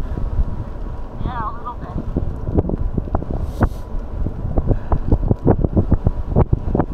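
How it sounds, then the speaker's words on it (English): Wind buffets the microphone in gusty, irregular bursts during an outdoor electric-assist bike ride, loud and close, with people talking briefly over it. "we're kind of windy"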